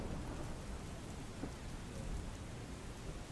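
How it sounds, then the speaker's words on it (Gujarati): Rain pours down over Vadodara city, a steady dense patter heard faintly at a distance, with a soft low rumble beneath and no talking. "વડોદરામાં પણ વરસાદી ઝાપટા પડી રહ્યા છે"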